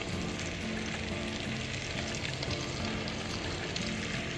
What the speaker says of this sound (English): So I will be frying these pieces of thighs in batches, right?